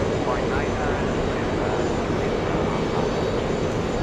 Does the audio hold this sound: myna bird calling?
no